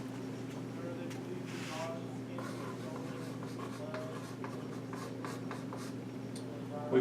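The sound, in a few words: chalk writing on a blackboard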